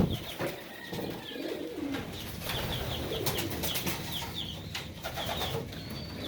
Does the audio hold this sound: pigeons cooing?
yes